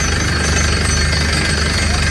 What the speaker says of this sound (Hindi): ड्रिलिंग चालू हो गई